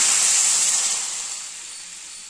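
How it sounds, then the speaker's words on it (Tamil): Jaggery syrup boiling in a pan on the stove gives off a steady, close bubbling hiss that slowly fades a little, with no voices. "இது நல்லா கொதி வந்துருச்சுங்க"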